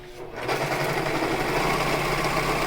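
A serger overlock machine stitches the edge of a fabric surgical mask, its steady high-speed motor whir running loud and continuous after a brief quieter start.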